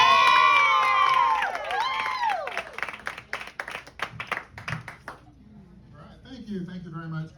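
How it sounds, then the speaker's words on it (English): Audience at an open mic comedy night clapping and cheering for a comedian coming on stage; a burst of applause and shouts that thins into scattered claps, with the host's voice over the start. "I really appreciate that clapping of anticipation, hopeful applause"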